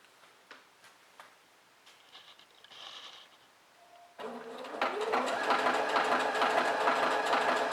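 A Singer Featherweight C240 sewing machine stitches jersey fabric with a stretch stitch. Faint ticks and clicks come first, then the motor starts into a loud, steady, rapid mechanical whir.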